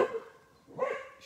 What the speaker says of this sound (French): Vous arrêtez d'aboyer sur tout le monde là.